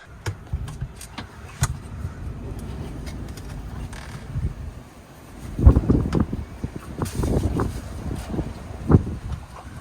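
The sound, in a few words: strong wind in a storm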